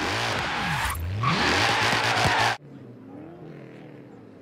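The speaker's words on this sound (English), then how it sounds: "perform 5 180 skills using the handbrake to turn the same way that you started" A car in Forza Horizon pulls a handbrake 180, engine revving hard with tires squealing in a long skid, then the roar cuts off abruptly, leaving a quieter engine hum as the car settles.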